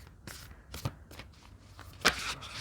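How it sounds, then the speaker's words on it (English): Tarot cards being shuffled and drawn, giving a few soft, quick riffling and flicking bursts at close range with a sharper snap near the end, in a quiet room with no talking. "Let's draw some more cards."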